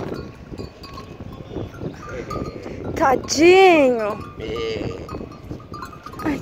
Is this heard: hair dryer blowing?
no